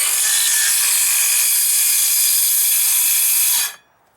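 A saw blade cutting shallow lines through wood, a steady loud rasping whine held for several seconds before stopping abruptly.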